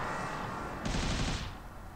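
Rapid automatic chain gun fire from the Mortal Blitz PlayStation VR shooter, a dense sustained burst that swells loud for about half a second mid-clip over continuous game noise, with no talking.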